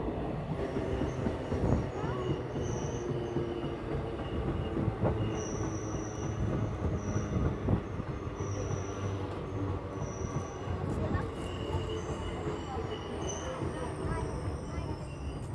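An ICF-coach passenger train runs between Rampurhat and Azimganj, its wheels rumbling and clattering steadily close by, with occasional squeals and rattles over continuous rolling noise; brief voices come through faintly.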